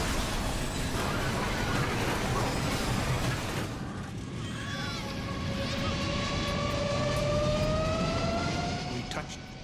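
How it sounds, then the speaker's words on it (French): An airliner races onto a runway at close to 500 km/h, its engines a continuous loud roar with a whining tone that slowly falls in pitch. "L'avion arrive en trombe sur la piste, à près de 500 km/h."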